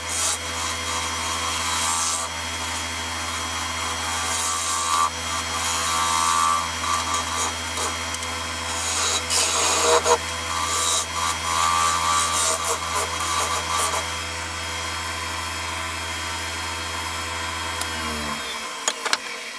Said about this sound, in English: The last job is just turning off that tenon now and finishing off the actual base of the